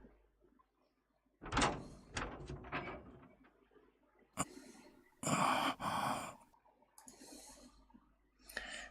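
A door opens in the visual novel Chaos;Child, heard as a soft click and sliding creak, with sharp bursts and breathy sighs around it in an otherwise quiet scene.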